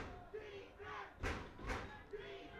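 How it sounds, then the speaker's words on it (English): Football stadium crowd at a college game between Case Western Reserve and Carnegie Mellon, cheering and roaring in two loud swells over a distant murmur, with a commentator talking. "The crowd getting into it."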